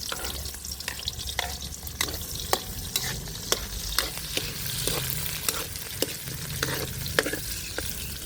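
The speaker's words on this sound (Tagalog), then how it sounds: "Ngayon naman, isasalang ko na yung sibuyas. Maraming sibuyas to." A large batch of onions sautés in a pan over a wood fire for biryani, giving a steady close hiss with regular scraping stirs and clinks from a utensil throughout, and no talking.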